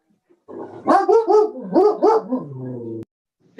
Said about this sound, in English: The dog's here.